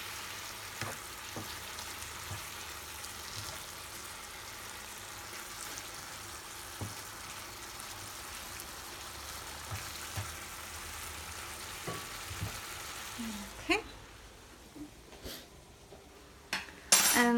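A teaspoon of sugar gets stirred into a frying pan over a constant sizzle, with scattered utensil taps and scrapes that grow louder and more frequent toward the end.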